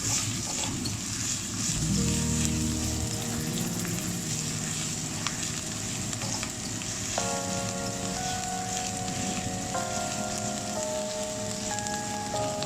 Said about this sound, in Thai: แล้วก็ทำการผัดกระเทียม ให้เหลืองหอมนะครับ